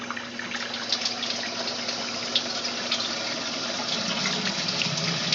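Water runs steadily into the tub of a Simplicity twin-tub washing machine, a continuous close splashing gush with a faint tonal hum beneath, no voices.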